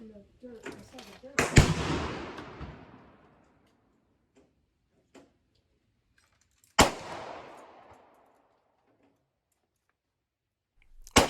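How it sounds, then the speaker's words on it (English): Loud M1 Garand rifle shots fired from the prone position on pavement: two sharp, booming reports several seconds apart, each with a long echoing decay, followed by a third blast cut off at the very end. "Shooting prone on pavement with a rifle that loads from the top is tricky business"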